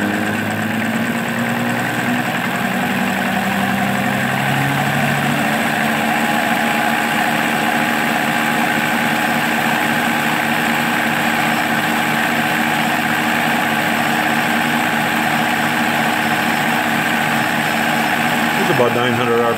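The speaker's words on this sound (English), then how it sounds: "if we run this distributor up to 900 RPM, we're gonna get 6 to 8 degrees of advance" An Oldsmobile 4-4-2 distributor spins on an old SUN distributor tester near 900 RPM, a steady mechanical whir and hum with vibration that holds at an even level throughout, while someone talks over it.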